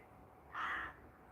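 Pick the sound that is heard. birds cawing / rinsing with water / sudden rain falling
birds cawing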